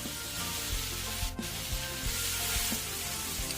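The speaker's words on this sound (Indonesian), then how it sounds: "Kita akan gunakan untuk menggoreng cabai. Ini sudah cukup, lalu kita masukkan cabai." Chili peppers sizzle and crackle in hot oil in a pan, a steady close frying hiss with occasional soft scrapes and pops, and no talking.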